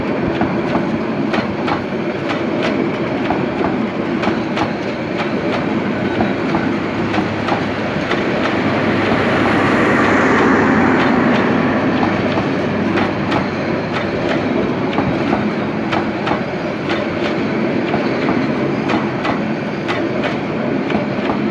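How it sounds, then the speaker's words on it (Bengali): Suvarna Express passenger train running from Chittagong to Dhaka, heard from on board or close by as a loud continuous rumble with steady clickety-clack of wheels over rail joints throughout. "চট্টগ্রাম থেকে টঙ্গী ছেড়ে ঢাকার উদ্দেশ্যে রওনা হচ্ছে সুবর্ণ এক্সপ্রেস।"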